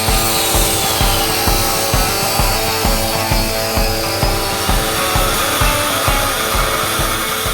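An angle grinder cuts into the metal of an old bus during its stripping, a loud, continuous grinding roar with a harsh high-pitched rasp and a steady, slightly pulsing rhythm, close by with no talk.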